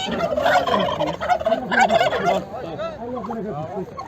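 Poultry at a chicken market in Çubuk, Ankara, give loud, close, overlapping gobbling, warbling calls that continue throughout.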